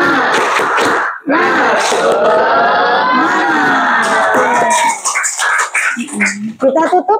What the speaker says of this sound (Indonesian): Tepuk semangat dulu dong.